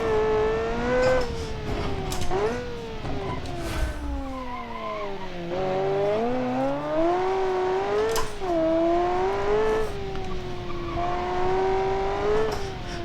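Simulated car engine in BeamNG, revving up and down continuously with rising and falling pitch as the throttle changes, loud and close, with brief tire skids and no talking.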